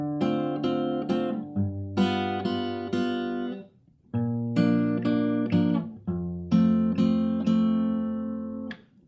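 An acoustic guitar in standard tuning strums and picks chords from a section of a song, close and clear with short pauses between phrases and no singing or talk.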